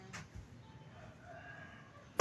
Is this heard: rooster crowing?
yes